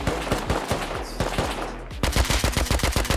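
Rapid AK fire in Rust, close and loud, with regular sharp bursts of shots, a short pause, then a faster, heavier volley to the end.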